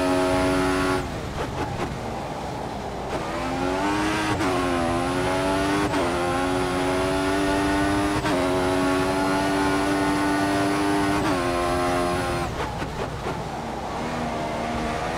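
Formula 1 car engine in the F1 2014 racing game at Bahrain International Circuit, screaming loud and close with repeated high-pitched rises and sharp drops as it upshifts, downshifts and accelerates out of turns, steady throughout with no talk.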